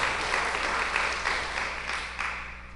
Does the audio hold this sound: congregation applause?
yes